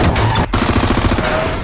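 Close, loud bursts of rapid gunfire rattle in quick succession during an attack on a car in an action film, with one brief gap before the volley resumes.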